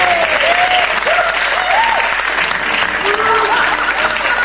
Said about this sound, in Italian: Un applauso dai nostri.